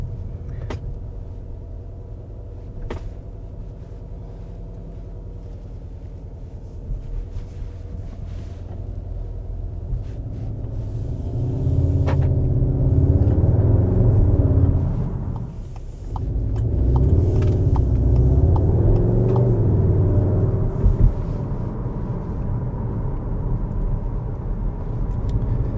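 A Skoda Octavia RS Wagon on the move, its engine a steady low rumble that swells louder midway with road and wind noise, heard from inside the car with no talking.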